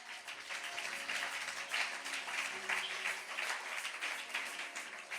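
Congregation applauding during a church worship gathering, steady dense clapping sustained throughout, moderately distant and fairly even in loudness.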